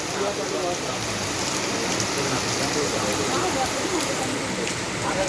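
Heavy rain pours down steadily at Velankanni, a dense, continuous wash of falling water with no clear breaks, close and loud throughout.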